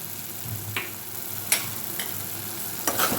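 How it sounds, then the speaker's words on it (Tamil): Pepper powder and crushed peanuts are stirred into a frying curry-leaf rice mixture, a steady soft sizzle broken by a handful of scraping, clinking strokes of the spoon against the pan. "மிளகுத்தூள் போட்டுட்டு அதே மாதிரி உடைச்ச நிலக்கடலை அதையும் சேர்த்துடலாம்"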